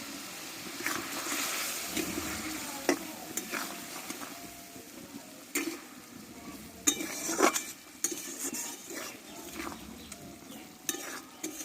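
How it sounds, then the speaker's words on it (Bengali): Spicy Bengali-style egg curry (dim kosha) cooking down in a pan, a continuous bubbling sizzle with intermittent spoon scrapes and clinks, close and fairly loud throughout. "কিছুক্ষণ আমি ফুটিয়ে নেব পুরো ঝাল ঝাল করে কষা কষা করে নামাবো"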